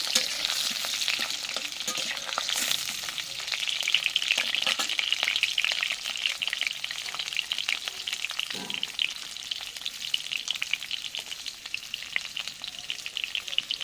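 Ingredients for a clay-pot chicken dish fry in hot oil, giving a steady, dense sizzle with stirring scrapes throughout and no voices.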